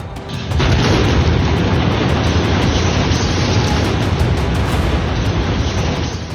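A loud, sustained explosive roar with a heavy rumbling blast that swells in and holds steady for several seconds.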